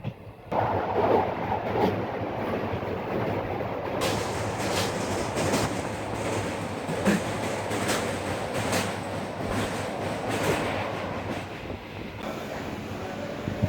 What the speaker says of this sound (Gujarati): આ ટ્રેન વેરાવળથી ઉપડીને ભાવનગર તરફ જવાવાળી છે